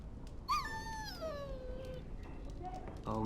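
A dog whimpers in Dragon Age: Origins, a high, wavering whine that slides downward over a couple of seconds, followed by a shorter whine near the end, all over a steady game background.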